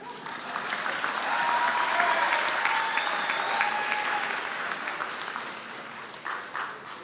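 A college commencement audience applauding under a tent, sustained dense clapping that swells and then gradually thins toward the end.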